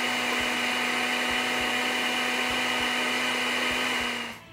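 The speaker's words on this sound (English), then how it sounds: "We're going to place the lid on the blender and begin blending." A blender whirs steadily as it blends cereal and water, a loud continuous motor drone with a sustained hum throughout before cutting off at the end; no one speaks.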